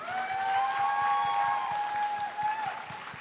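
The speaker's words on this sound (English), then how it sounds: "please give a round of applause to Richard Knack." Steady applause from a convention panel audience at BlizzCon 2011 fills the clip, with a sustained tonal whine running above the clapping throughout.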